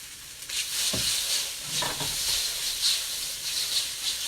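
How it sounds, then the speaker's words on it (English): Noodles stir-fry with Dungeness crab in a hot pan, a loud continuous hiss and sizzle up close, broken by a couple of deeper thumps and scrapes as the noodles are tossed in and stirred. "next I'm going to throw some of these bad boys in here, these noodles. Let them get a little cook on them here."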